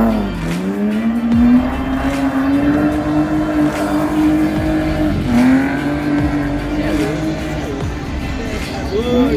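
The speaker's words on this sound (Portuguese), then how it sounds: "o cara brinca com o carro e freia" A car engine revs hard and tires squeal under braking at an outdoor Halloween car event, a loud sustained engine note rising and falling, with people talking over it.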